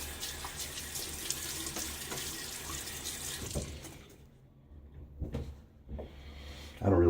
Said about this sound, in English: get my face wet one more time